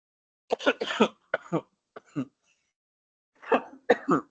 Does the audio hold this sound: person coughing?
yes